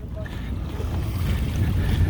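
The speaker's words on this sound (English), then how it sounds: "Very light winds. Forecast said 6, probably more like 10. We're sailing like a broad reach." A sailboat moving on a broad reach in light wind, with steady water rushing along the hull, soft wave wash and low wind buffeting on the microphone, continuous and close.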